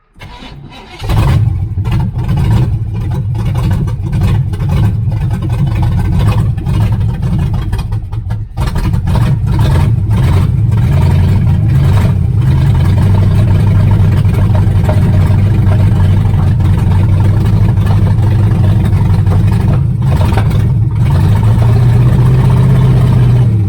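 A 1978 Chevrolet Nova V8 with no exhaust fitted cranks and fires, then runs very loud and rough up close, with a brief stumble partway through before the harsh, uneven idle continues and swells slightly near the end.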